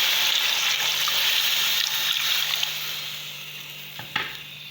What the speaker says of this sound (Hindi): पानी मैंने इसके अंदर डाल दिया थोड़ा सा